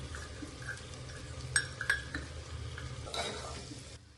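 Homemade spices of turmeric, chili masala and pulao masala go into a hot pan for masala rice, and a spoon stirs them with a soft steady sizzle and a few metallic scrapes against the pan.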